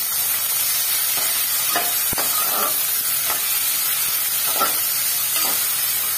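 Onions fry in hot oil with bay leaf, dried chilli, cloves, cardamom and cinnamon, giving a constant close hiss with intermittent soft stirring scrapes and clicks.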